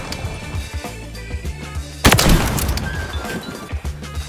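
A sniper rifle fires once in a first-person shooter with a sharp, loud blast that decays with a rumbling tail. Lighter clicks and thuds come before it and sparse noises follow, with no talking over the shot.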